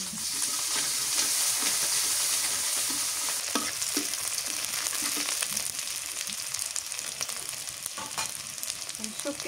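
Dried fish sizzling in hot oil in a home kitchen, with a loud, steady hiss and crackle close by and occasional stirring scrapes and taps.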